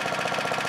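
A 2012 Husqvarna FT900 tiller's small engine idles steadily after an idle-screw adjustment, a close, even, rapid chugging throb with no talk over it.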